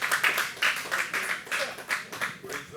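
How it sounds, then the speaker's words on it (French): A small audience claps for a guest at a Loiret local-investment awards event: the mayor of Bellegarde, vice-president of the Loiret mayors' association. Moderately loud, steady bursts of hand claps continue without speech. "On peut l'applaudir."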